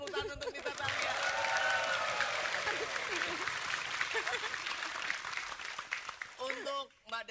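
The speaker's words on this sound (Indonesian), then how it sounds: "beri tepuk tangan untuk Nita Thalia." A crowd breaks into sustained applause for several seconds, dense clapping filling the space before voices return near the end.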